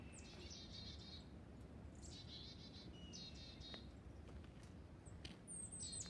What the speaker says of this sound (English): those ones hopping around in the trees going chickadee-dee-dee